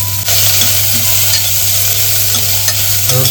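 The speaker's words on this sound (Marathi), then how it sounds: "हे सर्व आता तेलामध्ये फ्राय करून घ्यायचं आपल्याला." Onion and ginger-garlic paste frying in hot oil, a steady loud sizzle with stirring scrapes running throughout, no voices.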